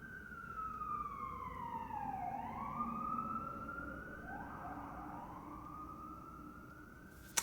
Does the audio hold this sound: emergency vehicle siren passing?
yes